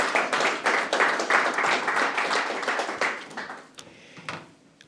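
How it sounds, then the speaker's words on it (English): Audience members at a Democratic town committee candidates forum clap for a speaker, a burst of close, distinct handclaps that thins out and fades to a few scattered claps at the end. "a round of applause for Emily Antul"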